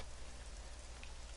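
Rain in the video game AI: The Somnium Files, a dense, continuous downpour hissing on surfaces with a low rumbling undertone, steady and loud with no speech.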